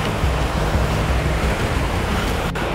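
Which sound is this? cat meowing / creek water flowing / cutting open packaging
creek water flowing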